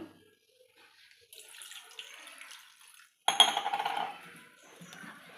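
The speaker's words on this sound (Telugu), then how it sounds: "ఇప్పుడు దీంట్లో చింతపండులో కూడా వాటర్ పోసి చింతపండు నానబెట్టుకుంటాను" Water pours into a bowl of tamarind for soaking in a short splashing burst after quiet kitchen clinks, then trickles off.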